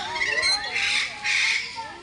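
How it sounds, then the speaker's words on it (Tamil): Two pet parrots let out short, shrill squawks in a few close, loud bursts, with brief pauses between calls. "இப்போ 2 கிளி."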